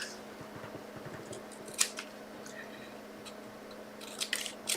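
Scissors snip through material in a few quiet, irregular cuts, with soft crunching clicks close by and no speech.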